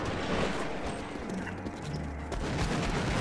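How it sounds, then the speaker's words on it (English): Gunfire and explosions from combat in Half-Life: Opposing Force keep up a dense, continuous low rumble of shots and blasts, with no voices over it. "Explosions."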